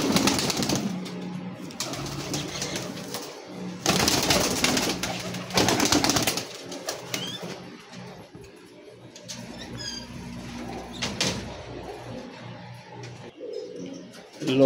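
Baby pigeons of the Teddy breed, offered for sale in Lahore, give soft intermittent coos and chirps up close, with bursts of rustling and wing-flutter noise in between.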